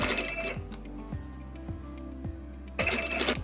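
A sewing machine stitching a skirt hem with a hemming foot, a steady rhythmic run of mechanical clicks about twice a second over a low motor hum, with a brief louder rustle at the end.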